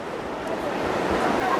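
Hot spring water pouring from pipes into a tank at Manikaran, Himachal Pradesh, a steady broadband rush of falling water that stays close and constant throughout.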